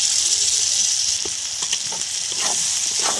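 Turmeric, red chili powder and ginger-garlic paste fry with onion and tomato for a prawn and banana-flower curry, a steady close hiss of sizzling oil with scattered stirring clicks and scrapes throughout, no voices.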